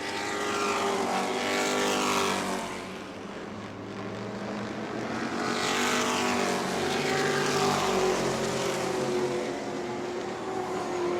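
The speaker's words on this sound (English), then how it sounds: "Van Dievender cuts down to the bottom, looks inside of Dalton Simons as they drag race down the back straightaway" Stock race cars drag race side by side down the back straightaway at New Smyrna, engines roaring loudly as they pass, the sound swelling and fading in two sweeping passes with no talking.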